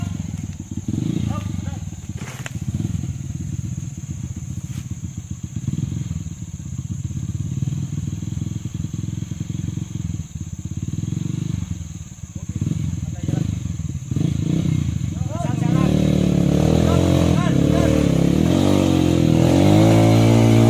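Trail motorcycle engine revving hard on a muddy mountain trail ride, rough rising and falling throttle bursts close by, with people talking and shouting over it.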